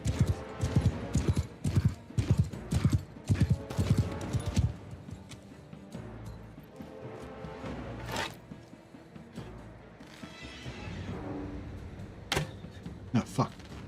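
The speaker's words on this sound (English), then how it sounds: "this horse is heaps better than the other one" Rhythmic hoofbeats from a horse ridden in the Warhammer-themed Old Realms mod for Mount & Blade II: Bannerlord clop steadily at first, then thin out into scattered thuds and game sounds, with someone talking over parts.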